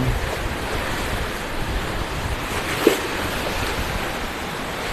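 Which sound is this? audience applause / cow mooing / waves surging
waves surging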